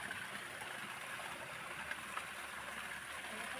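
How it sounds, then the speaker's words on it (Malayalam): Irrigation water pumped for hours flows through a farm channel, a steady, even rush and gurgle of moving water heard quietly and continuously with no other sounds. "കണ്ടത്തിലും മറ്റാവശ്യങ്ങൾക്കും ഉള്ള വെള്ളം ഇങ്ങനെ പൊയ്ക്കൊണ്ടിരിക്കും"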